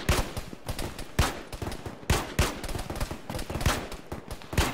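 Rapid bursts of gunfire from enemy forces engaging from the north in a ShackTac military mission game, dense overlapping shots cracking in irregular volleys with several louder, nearer reports standing out.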